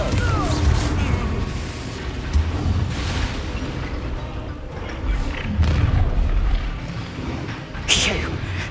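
Confringo blasting spell in Hogwarts Legacy, booming fiery explosions and crashes through a dense battle mix, with character voices speaking between the blasts.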